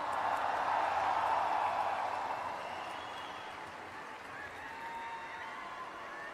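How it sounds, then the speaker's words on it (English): An audience in Delhi applauds Sadhguru after his 75-day solo motorcycle ride, the clapping steady and full at first, then thinning and fading to a softer wash. "Big round of applause for Sadhguru once again."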